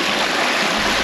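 A clear mountain stream in the Austrian Alps rushes and splashes in a continuous, dense hiss, close by and loud, with no voices over it.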